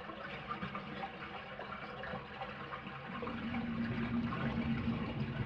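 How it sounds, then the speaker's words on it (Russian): A toilet flushing dirty water in the PS1 game Resident Evil: Director's Cut, a rushing, gurgling flow of water that grows louder and fuller midway and keeps pouring steadily to the end. "Полной грязной водой хотите спустить?"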